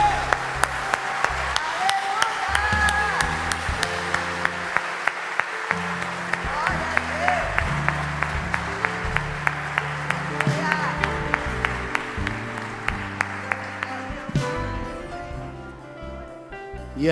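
A church congregation applauds the Lord in a long, dense round of clapping, with a voice speaking over it, before the applause thins out near the end.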